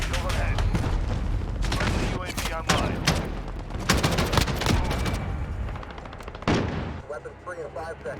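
Heavy video-game gunfire pours through enemy cover in a modern shooter, with rapid automatic bursts, sharp individual shots and booming impacts, loud and close, with voices mixed in.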